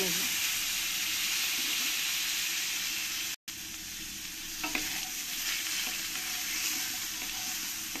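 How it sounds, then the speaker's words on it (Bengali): Cut potatoes frying in hot oil for a katla fish curry, a steady broad sizzle with occasional stirring scrapes, close and continuous, with a brief dropout midway. "আলুগুলো আমি একটু লাল লাল করে ভেজে নেব।"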